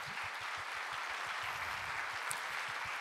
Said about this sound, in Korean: 우리 한번 어하나를 위해서 큰 박수 해주세요.